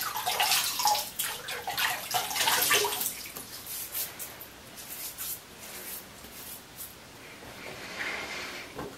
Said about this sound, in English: I'm just going to take some hot tap water here in my sink and add to my face.